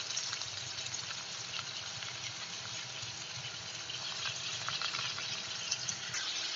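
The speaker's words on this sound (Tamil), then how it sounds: "சோம்பு பொரிஞ்சோன்ன நம்ம கட் பண்ணி வச்சிருக்க வெங்காயத்தை சேர்த்துக்கலாம்." Sliced onions fry in oil with fennel seeds for cauliflower masala, a steady soft sizzle that holds evenly throughout without a break.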